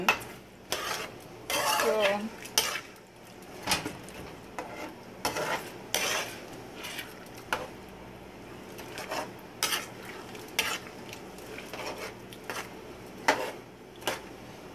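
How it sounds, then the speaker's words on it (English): Tomatoes cooking in a pot are stirred, with clattering spoon-on-pot knocks and scrapes in irregular bursts over a low simmer, close, while a voice speaks briefly. "So what we do is we keep stirring the tomatoes till it's done."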